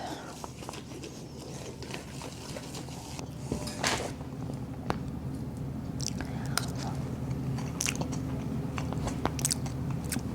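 Someone chews a cheesy stuffed potato filled with chicken during a taste test, close-up wet squishing and chewing with scattered bites and clicks over a faint low background hum.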